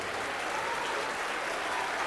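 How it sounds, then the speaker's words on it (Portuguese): A congregation at a worship service claps in dense, steady applause that fills the whole stretch at an even level with no pauses. "E enquanto você aplaude"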